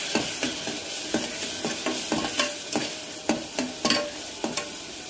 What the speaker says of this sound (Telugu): అన్నీ వేసుకొని మిక్స్ చేసుకోవాలి.